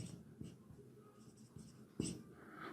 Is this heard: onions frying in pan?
no